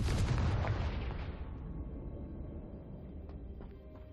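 A Confringo fire spell cast in the Hogwarts Legacy video game bursts with a loud blast that rolls off into a long fading rumble, with no talk over it.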